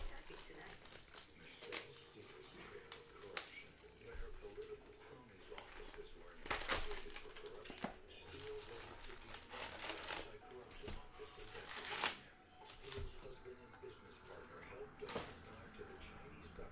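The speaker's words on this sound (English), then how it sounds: "I'm going to just cut the top open and pull out the packs." Box of 2019 Topps Chrome Baseball HTA Jumbo trading cards being cut open and packs pulled out, with crinkling wrappers, cardboard tearing and sharp rustles across the stretch, along with intermittent talk.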